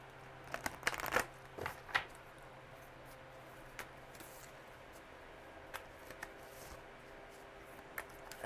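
A deck of cards being shuffled in a quiet room, with a dense burst of riffling near the start and a few softer, scattered flicks and taps afterward, all fairly faint.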